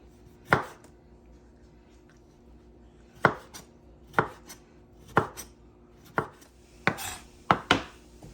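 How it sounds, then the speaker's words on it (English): A knife dices tomatoes on a cutting board, with about a dozen sharp, close chops in irregular bursts and pauses. "Dice up these tomatoes."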